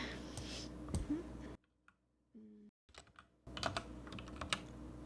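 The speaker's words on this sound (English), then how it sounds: "Excuse the typing." Rapid clattering keystrokes on a computer keyboard, close and fairly faint, come in two bursts separated by a stretch of near silence with a brief tonal sound in the gap.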